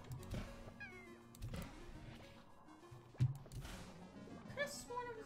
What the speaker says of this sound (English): I'm talking to my cat